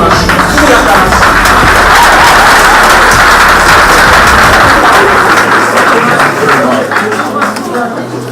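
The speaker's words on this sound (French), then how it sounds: "Sous l'acclamation." A crowd claps loudly and continuously at a diploma ceremony, dense steady applause filling the room for about eight seconds and easing slightly toward the end.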